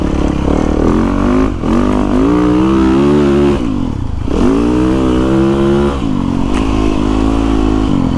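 Yamaha YZ450FX 450cc dirt bike engine revving up and down loudly and close, with steady throttle blips and sustained high revs throughout.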